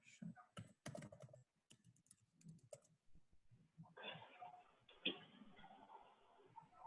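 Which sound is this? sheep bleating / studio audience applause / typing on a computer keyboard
typing on a computer keyboard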